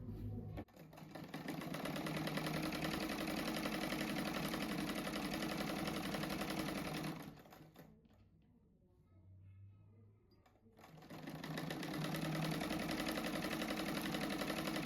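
A sewing machine stitching a cushion hem, a steady close whirring run that pauses briefly around the middle before the stitching resumes at the same pace.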